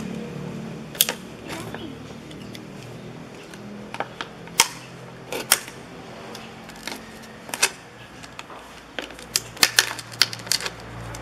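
A knife cutting into a plastic bottle to make an ant trap, a run of sharp irregular clicks and crackles from the plastic, close and fairly quiet over a low background hum.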